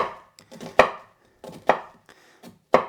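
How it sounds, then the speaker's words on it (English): A knife chops through red onion on a board in crisp, sharp strikes, a few soft cuts leading into three loud, spaced chops, close and alone with no talk. "So I'm just dicing up this red onion"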